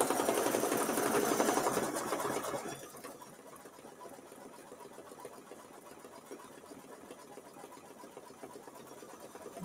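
A single-needle embroidery machine stitches a nose design on a Kimberbell mini quilt, its fast steady mechanical whir loud for the first few seconds and then dropping to a quieter continuous hum, with no voices.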